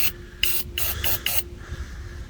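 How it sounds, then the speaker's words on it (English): WD-40 sprays from an aerosol can onto a car door latch on a Volvo, four short hissing bursts in quick succession followed by a quieter tail, close and clear, with no talking. "Just give it a squirt. WD-40 is all you need."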